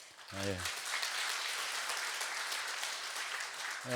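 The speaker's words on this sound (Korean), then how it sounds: "우리 찬양팀들 너무 참 수고하시는데 박수로 하면" A church congregation breaks into sustained applause for the worship team, a dense wash of clapping filling the room, with a brief voice at the start and end.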